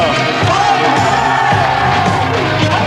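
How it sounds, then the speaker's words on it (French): A lively crowd at a staged sports event cheers and claps in a steady, dense roar that fills the whole stretch, with some shouting mixed in. "Tu peux applaudir,"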